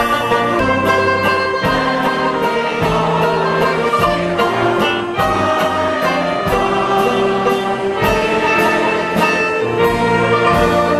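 Banjo playing a tune in a comedy performance, bright plucked notes with strong rhythmic strums and chords, loud and close, continuous for about eleven seconds without talking.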